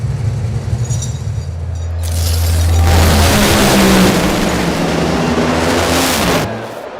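A drag car idles with a deep low rumble after new spark plugs and wires, running rough, then revs up loudly for several seconds before dropping back to idle, close and alone.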